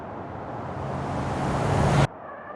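A truck cornering hard at speed in the driving game BeamNG, a rising roar of engine and road noise that builds steadily, then cuts off sharply to a quieter hum near the end.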